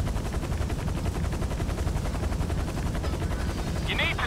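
Helicopter in GTA 5 during a heist, a steady close rotor chop with rapid rhythmic beating throughout, loud and constant, with a brief higher whine near the end.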